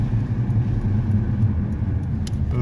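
Traffic rumbles along a busy road as a car passes close by, a steady low engine and tyre roar filling the short stretch without pause.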